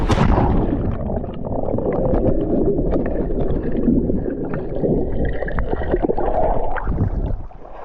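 A person dives into a swimming hole at Poza Azul, Agua Salada, Morelos, clutching a camera; an initial splash gives way to continuous muffled underwater gurgling and bubbling, close and steady throughout.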